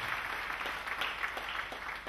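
A church congregation claps together in praise, a faint, even wash of applause carrying steadily from start to finish.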